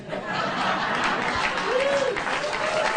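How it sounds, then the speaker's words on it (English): Loud studio audience applause on a late-night talk show, a thick continuous roar of clapping with a few whoops and a brief shouted voice rising through the middle. "She always gets applause wherever she goes."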